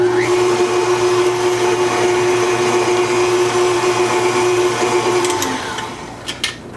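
Food processor whirring steadily as it mixes whipped feta with lemon zest, a loud sustained motor hum that winds down near the end, followed by a few light clicks.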